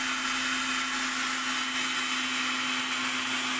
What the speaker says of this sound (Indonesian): Kemudian kita nyalakan blower atau vacuum cleanernya.